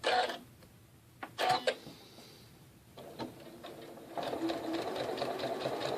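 A sewing machine stitches a straight seam, the motor running in short bursts at first and then settling into a steady, continuous whir, close and fairly quiet with no talking.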